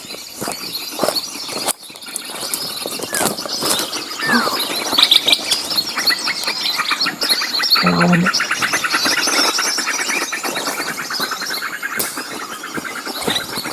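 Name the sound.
ketilang mas bird calling after being caught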